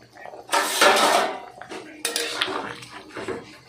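Fish pieces go into a pot of simmering ridge gourd and potato curry with clattering metal and utensil scrapes in two short bursts, close and fairly loud, with faint voices nearby.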